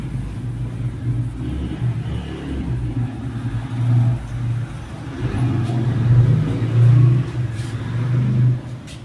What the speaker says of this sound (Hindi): गाड़ी वाड़ी निकलती हैं।